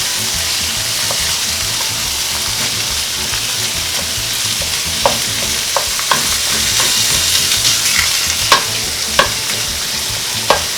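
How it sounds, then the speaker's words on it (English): Ground meat browns for a spaghetti meat sauce, sizzling steadily in a hot pan while a utensil stirs and scrapes it, giving intermittent clicks and knocks over a continuous close frying hiss. "You always need to brown your meat for meat sauce."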